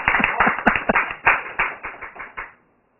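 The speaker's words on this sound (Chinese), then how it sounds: "好，拍手。" About a dozen sharp hand claps in an uneven run over two and a half seconds, close and fairly loud, ending abruptly in silence.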